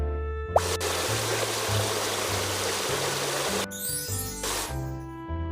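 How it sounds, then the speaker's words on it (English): Water jets rinsing foam off a fire truck in a children's video game make a continuous broadband gushing hiss for several seconds, over looping game music with a brief chime at the start. "Now rinse off the foam."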